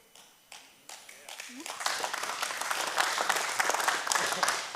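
Audience applause at a faith testimony talk by a former NFL quarterback: a few scattered claps quickly swell into full, dense clapping from a large crowd that holds steady to the end.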